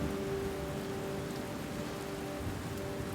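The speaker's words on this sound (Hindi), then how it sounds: "अभी हल्की हल्की बारिश थी, इसलिए जंगल एकदम डेड था।" Light rain falls steadily on the forest of Pilibhit jungle in India, a soft, even patter that fills the air without pause, with a faint tonal hum beneath it and no voices.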